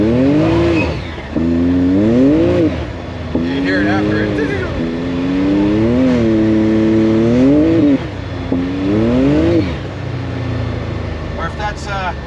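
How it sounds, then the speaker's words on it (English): A Can-Am Maverick X3 EVO R3 side-by-side engine, freshly tuned, revs repeatedly in rising and falling surges, with a blow-off valve recirculating air into the intake and someone talking over the loud engine. "my blow-off valve with the recirculating that's going into the air, shooting back into my air intake"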